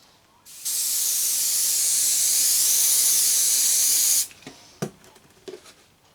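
An aerosol spray can hisses onto a handmade model tree in one loud, steady burst lasting about three and a half seconds, followed by a few small clicks and taps as the can is handled.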